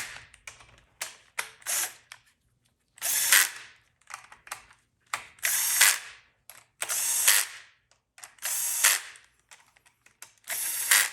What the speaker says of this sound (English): you can zip them down with an 1-inch-pound impact